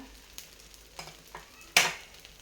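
A green pea dosa frying in oil on a pan, a quiet sizzle with a few soft scrapes, then one sharp burst of crackling as oil hits the hot surface, close and alone.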